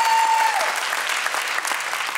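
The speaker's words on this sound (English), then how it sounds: "Come on, you guys are going to have to clap better than that." A large church congregation at a sermon breaks into steady applause that fills the hall, a dense, sustained wash of many hands clapping, with a brief tone sounding at the very start.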